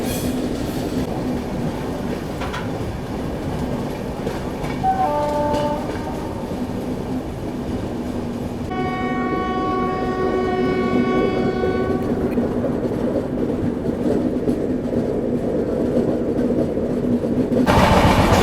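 Garib Rath Express passenger train running on the bypass line outside Yesvantpur, Bangalore: a steady rolling rumble with a long two-tone horn blast midway, the noise building louder toward the end.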